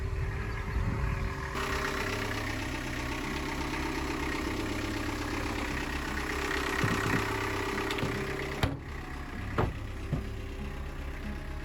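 A sailboat engine runs steadily to charge the battery, with a low droning hum and shifting tones, a few knocks and clunks toward the end, no talking.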